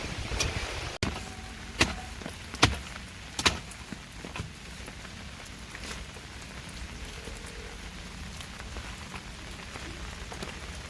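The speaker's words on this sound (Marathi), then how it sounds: "कमी झाला पाऊस" Steady rain patters on a surface nearby in hilly Konkan countryside, with a few louder drips and knocks early on, then an even, gentle downpour as heavy rain eases.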